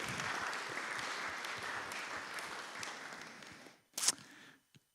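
Audience clapping fills the room as sustained, moderately loud applause that holds steady for about four seconds, then cuts off abruptly, followed by a brief louder burst of sound and a final faint tap.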